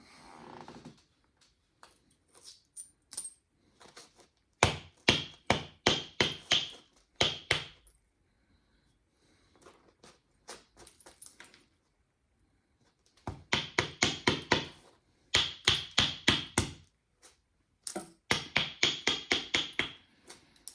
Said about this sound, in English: try to knock pieces off to thin this piece of stone.